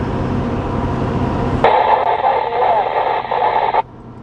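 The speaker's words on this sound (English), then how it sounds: "Pretty staticky, like it's pretty hard to understand what he's saying there." A Midland MXT115 two-way radio giving off steady hiss and rumble while in a vehicle, then a burst of garbled, static-laden transmission from another person that cuts off abruptly.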